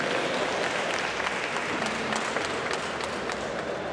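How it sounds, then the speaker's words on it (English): Steady audience applause at an anime convention panel, a dense wash of many hands clapping at even volume throughout, with a few faint voices mixed in. "Leo Bain, everybody, give him an applause, please."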